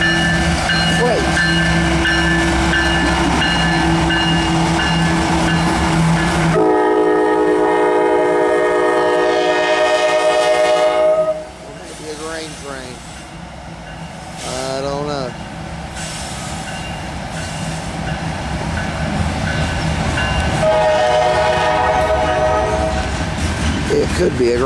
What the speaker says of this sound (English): Could be a grain train.